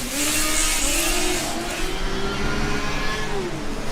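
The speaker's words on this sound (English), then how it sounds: "A lot of noise coming from the track now, a lot of combustion cars going around." Combustion race cars at a Formula Student autocross roar and whine continuously, revving with rising and falling pitch as they pass around the circuit, loud and close.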